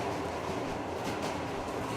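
A train rolls along rails in the post-apocalyptic game Metro Exodus, a steady, close, continuous rumble with a faint rhythmic clatter and no talking.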